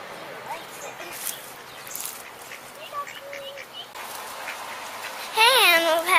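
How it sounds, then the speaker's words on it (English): Ducks and ducklings being fed outdoors, soft scattered chirps and peeps with a louder wavering quack-like call near the end, under a person talking. "Oh, here's the little duckling."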